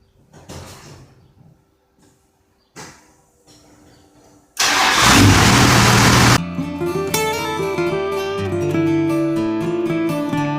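First-generation Dodge Cummins diesel engine cranking loudly for about two seconds, catching and settling into a steady rumbling idle close by, after a few quieter clunks beforehand.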